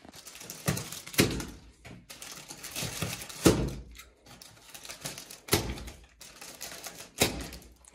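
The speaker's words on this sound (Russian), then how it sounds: "давайте вскроем, посмотрим, что там внутри у нас в этом чудном чемоданчике" Someone opens the plastic carrying case of a Makita DK0120 rotary hammer and angle grinder set, with a series of sharp snapping latch clicks and knocks, rustling and thuds between them, close and without talk.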